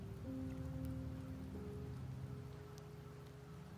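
Steady rain falls in a video game setting, a constant soft hiss of drops with faint low tones underneath, no talk.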